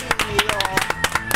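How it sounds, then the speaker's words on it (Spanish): Audience applause on a live television show, scattered rhythmic clapping in quick bursts under ongoing talk. "Qué débil, mira, aplausos."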